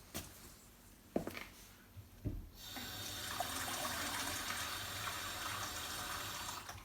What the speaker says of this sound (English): I'm going to add more water.